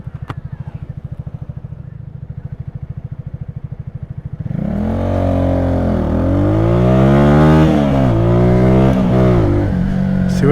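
A motorcycle ridden through New York City streets from Washington Heights to the Bronx idles with a steady rapid pulse, then roars close and loud as it accelerates, its engine pitch climbing and dropping through gear shifts.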